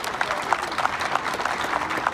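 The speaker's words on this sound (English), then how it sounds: "So you give yourselves a round of applause." Protest crowd applauding steadily, dense continuous clapping from many hands at moderate distance with no voices on top.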